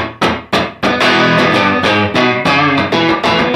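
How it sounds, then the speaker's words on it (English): An amp simulator pedal modelled on a 1963 Vox AC30 Top Boost plays distorted guitar with room reverb: a few sharp strummed chords, then a dense run of bright, ringing notes and chords with a short room tail. "What you're hearing is actually a room reverb."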